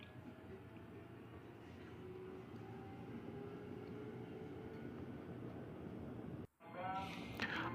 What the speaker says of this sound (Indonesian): sekarang saya sudah di dalam KRL jurusan Cikarang